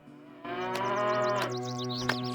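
A cow lets out one long, loud, close moo with a rich, steady tone in The Witcher game, while light chirping and faint ambient game sounds continue in the background.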